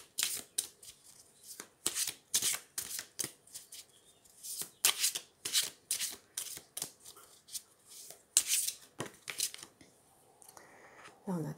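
Tarot cards shuffled by hand in a steady run of crisp riffling bursts, close and fairly quiet, followed by a few softer slides as cards are drawn from the deck, with no talking.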